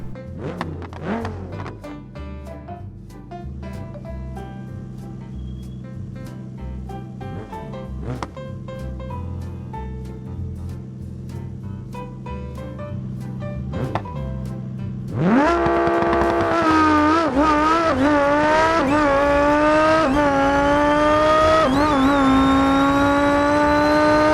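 Cherrier FCV with a 900 hp 2.5-liter turbocharged inline-five on nitrous in BeamNG, idling and blipping with sharp revs and pops, then launching into a loud, rising full-throttle wail that climbs through several gear changes.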